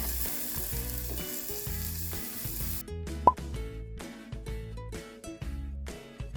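Water splashes into a hot pan of sautéed onion, garlic and ginger for a shrimp broth, a loud sizzle and a sharp plop cutting through steady background music.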